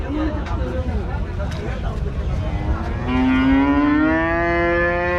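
A cow gives a long, low moo that swells over a busy crowd murmur and other background noise, close by, at the Rajshahi city cattle market.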